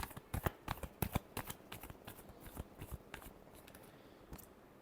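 Tarot cards being shuffled by hand, a quick riffling run of crisp slaps and flutters that is loudest at the start and then eases into softer sliding, close and alone with no voices.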